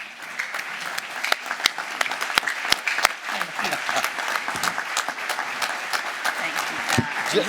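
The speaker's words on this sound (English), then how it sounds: "If you'll stand and give them a round of applause for what all they've done for the Athletic Hall of Fame." A standing banquet audience at the Big Country Athletic Hall of Fame induction applauds Al and Carol Pickett with a sustained round of clapping; sharp individual claps stand out above the crowd, and speech is briefly audible.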